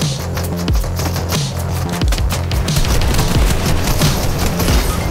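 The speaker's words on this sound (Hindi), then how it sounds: "गोली चलाते रहे।" Rapid bursts of Fortnite gunfire crackle in quick succession, dense and continuous, loud and close.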